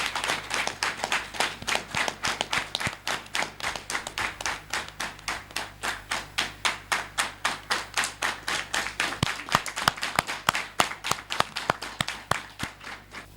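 A crowd at a political rally in Porto-Novo backing the president claps in unison, a long, steady, pulsing beat of loud hand claps that holds its tempo for over ten seconds with no talking.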